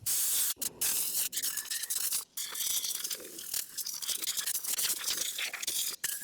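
Compressed air blowing dust out from under the seat pan area of a riding mower, heard as loud hissing bursts that cut off and restart several times in close succession.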